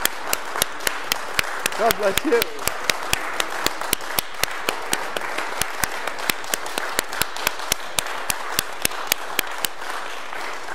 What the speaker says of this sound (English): A standing ovation mid-concert.